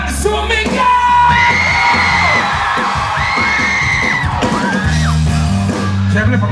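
A concert crowd at outdoor concert grounds in Nueva Ecija yells and whoops loudly and continuously, a dense roar of many voices, with louder shouts rising above it.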